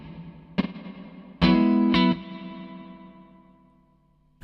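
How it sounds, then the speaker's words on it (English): Three guitar notes ring through a TC Electronic Hall of Fame 2 pedal on its spring reverb setting: a light pluck, then a louder strummed chord and another strike, each trailing off into a long, splashy, reflective decay. "You can hear all those reflections that is quite characteristic of a spring reverb."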